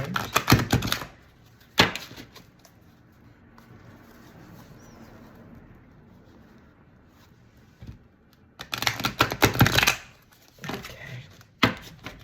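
Cards are shuffled in quick riffling bursts near the start and end, during a tarot-style reading, with soft handling sounds and a quiet lull in between.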